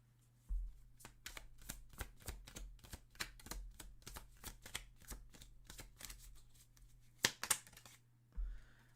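Tarot cards are shuffled in a quiet room, a fast run of crisp riffling flicks and soft slaps lasting several seconds, with a sharper card snap near the end and a low steady hum underneath.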